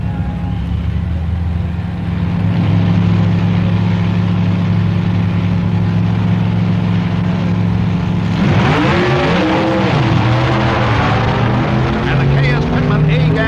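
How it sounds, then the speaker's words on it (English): Supercharged drag racing coupe at the 1965 NHRA Winternationals, a loud steady engine drone that shifts mid-run into a rising, sweeping roar as the car blows past another entry. "Supercharged coupe blows by another Stone, Woods, and Cook entry for the class honor"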